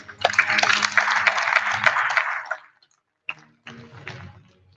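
A short burst of audience applause at an award ceremony, a dense clapping wash fading out after about two and a half seconds, followed by a pause and a few scattered claps and noises.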